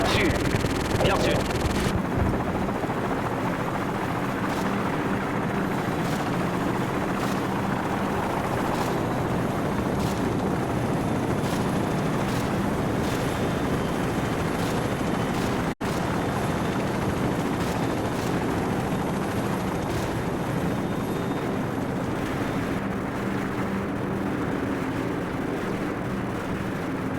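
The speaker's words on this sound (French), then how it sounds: "À l'équipage, nos hélicoptères entrent dans la zone." A steady, loud rotor roar of helicopters in the video game Modern Warfare fills the whole stretch, with faint rhythmic thumps and scattered distant shots under occasional voices.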